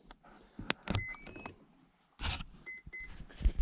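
Short electronic arming beeps sound from the motor controller of an FMS Freewing F14 RC jet fitted with FMS 2100kv V2 Platinum fan units, a couple of faint tones between clicks and handling noises, close and quiet.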